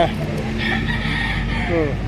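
A rooster crows at a busy poultry auction market, a single drawn-out call rising near the end over constant crowd murmur and other clucking fowl.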